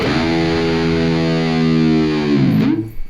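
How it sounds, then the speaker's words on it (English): A loud distorted electric guitar note held steady, then plunging sharply downward in pitch in a whammy-bar dive bomb before cutting off, from a song's intro. "First thing you hear is a drum intro, and then a big dive bomb."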